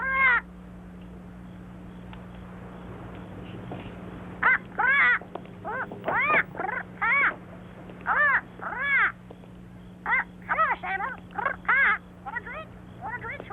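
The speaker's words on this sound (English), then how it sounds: "Put a lid on that bird." Bird cawing in a 1978 film, a rapid series of harsh, loud cries coming in irregular bursts over a low steady hum.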